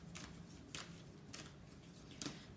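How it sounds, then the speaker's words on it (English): Tarot cards are shuffled in short, soft riffling bursts, about four of them spaced roughly half a second apart, faint and close against a quiet room hush. "Can I just shuffle the cards"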